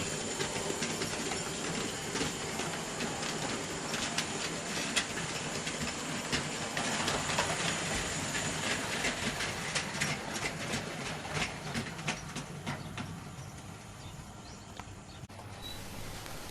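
A goods train runs past a quarry, giving a continuous rattling rumble with rapid clicking of wheels over rail joints that stays fairly steady and fades slightly near the end.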